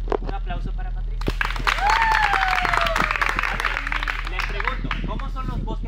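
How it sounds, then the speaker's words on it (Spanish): An audience at a talk on tropical forest biodiversity in Panama breaks into a short burst of applause, with a whistle-like tone and voices mixed in. "Un aplauso para Patricia."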